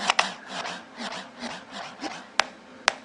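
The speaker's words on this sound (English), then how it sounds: "Now it tells me scratch by moving the deck back and forth" Record scratching on a DJ app, the deck dragged back and forth in a run of soft rubbing strokes, with two sharp clicks near the end, fairly quiet and alone.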